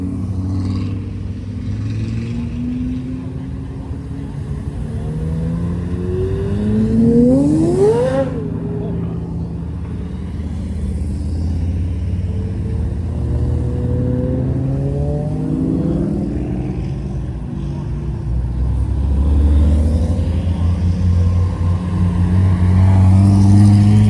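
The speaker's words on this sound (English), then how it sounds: "here comes the last batch, guys, being led by the Wyra and the Chiron. KTM Crossbow GT2 and the Zonda MD" Rare hypercars, including a Bugatti Chiron, Pagani Zonda and KTM X-Bow GT2, roll past at a Miami car gathering. Loud, continuous engine rumble swells and falls as one car sweeps by with a rising and dropping pitch, while others keep droning behind.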